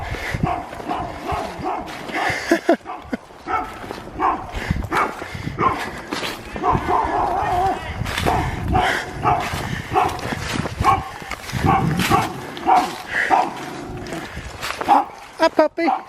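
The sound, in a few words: dog barking and whimpering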